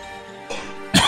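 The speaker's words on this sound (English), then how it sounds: "Have a good cough" Two short coughs, throat-clearing in quality, a soft one followed by a louder, harsher one, close up with no talk.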